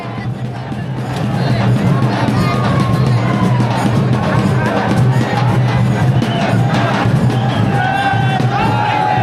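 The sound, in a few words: huge crowd at Pattan Kodoli festival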